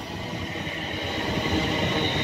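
A London Northwestern Railway Class 350 electric train, units 350 254 and 350 374, arrives at platform 4 of Birmingham International station with a loud, steady rolling rumble and wheel noise close by, with no talking.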